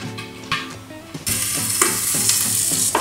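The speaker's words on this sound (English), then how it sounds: "it's popping that popcorn." Popcorn pops inside a pressure cooker, a sizzling rush of frying with quick, irregular pops that turn denser and louder midway through.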